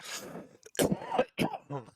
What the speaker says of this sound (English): Sorry for the cough in your ears.